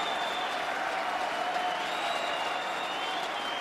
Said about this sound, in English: Man, the crowd is going crazy.